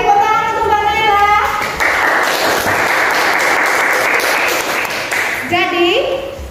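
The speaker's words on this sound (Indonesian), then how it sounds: "tepuk tangan untuk Mbak Naila." An audience bursts into a few seconds of dense, loud applause for a young woman at an Indonesian gathering, with a voice speaking just before and as the clapping fades.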